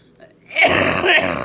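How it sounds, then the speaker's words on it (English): After a quiet moment, one rough, throaty cough bursts out close to the microphone, harsh and breathy, lasting about a second, from someone just woken from a nap after lying flat. "I'm going to cough a little bit from laying flat"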